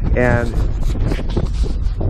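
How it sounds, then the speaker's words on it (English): Strong gusts of outdoor wind buffet the microphone at a residential yard with a freshly dug trench drain, a loud rumbling roar under someone talking. "Kind of windy, so hang in there."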